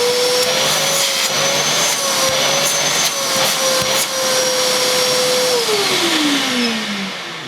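A loud, steady motor whine and rushing suction from a Vax V020TA carpet washer, close up, the pitch dropping slightly near the end.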